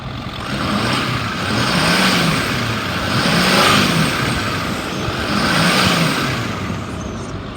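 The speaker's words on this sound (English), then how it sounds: "I'm gonna rev it up so you can hear it." The engine of a 2009 Ford F-550 XL stake truck revs up and down three times in broad swells, loud and close, with no talking over it.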